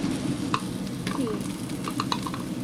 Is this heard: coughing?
no